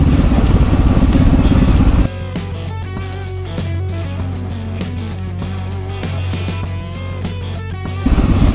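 A two-stroke dirt bike engine runs loud and close, a steady buzzing drone with a harsher, louder stretch at the start and end and rattly mechanical clatter through the middle, with no talk over it.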